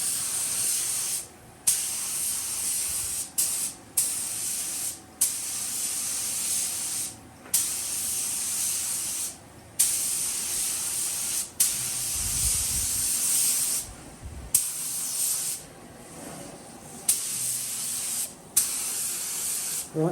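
A spray gun sprays paint thinned 50-50 with thinners in long, steady hissing bursts, each broken by a brief pause, sounding close and continuous for about twenty seconds.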